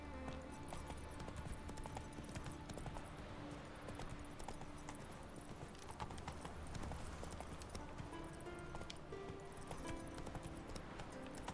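Horse hooves clip-clop steadily through a game world in The Witcher 3, a continuous rhythmic trotting over ambient game sound and music with no speech.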